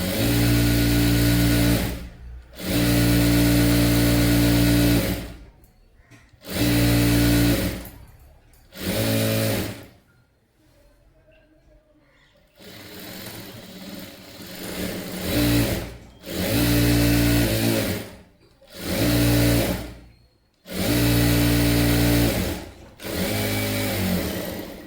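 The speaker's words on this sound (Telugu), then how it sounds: "ఇదంతా కూడా మళ్ళీ ఇంకొకసారి స్టిచ్ అనేది వేసుకుందాం. డబుల్ కుట్లు అనమాట" A sewing machine runs a double line of stitching along the seam of a sari umbrella frock, loud close whirring bursts of a few seconds each, separated by short pauses, with no talk.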